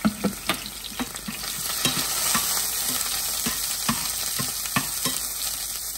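Garlic sautés in a pan for a home-cooked bottle gourd dish, a steady frying sizzle with a run of sharp stirring clicks and scrapes spaced through it, close and alone with no talk.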